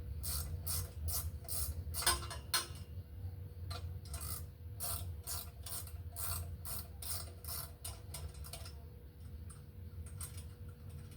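A nut being screwed onto a threaded screw with damaged threads on a portable radio mast gives a rapid series of close, dry ratcheting clicks in irregular bursts.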